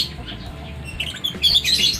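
Two-week-old lovebird chicks chirp close by, giving a few soft, thin tweets that grow into louder, busier high peeping toward the end.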